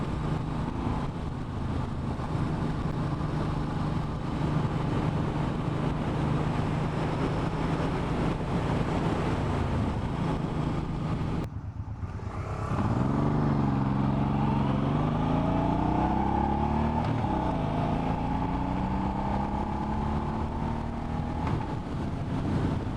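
A Suzuki M90 motorcycle engine revs hard in second gear under a constant rush of wind, then the pitch rises and falls as it shifts and pulls on again.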